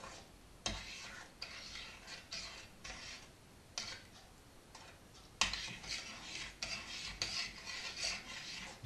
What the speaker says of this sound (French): à feu doux, on mélange jusqu'à que la crème fraîche soit bien incorporée au lait